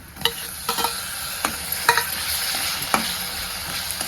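Tomatoes going into browned onion in hot oil for a Marathi bitter gourd dry curry: a near, steady sizzle with several sharp clinks and scrapes of a spoon against the pan, no voices.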